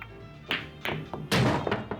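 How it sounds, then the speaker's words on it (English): Billiard balls in Yakuza 0 during a carom shot: a cue strike followed by several sharp, close clacks as the ball hits two others in quick succession, loud and clear with no talking. "strike the yellow ball and the ball here at the same time"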